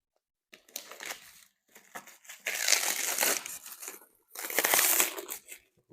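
Microphone packaging being opened, with bursts of loud plastic crinkling and crushing in three separate handling passes and short pauses between them, close up and without speech.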